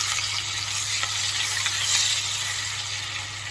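Chopped onion and garlic fry in hot oil in a pan just used to fry rohu fish, a steady, fairly loud broadband sizzle that stays even throughout, with no voices.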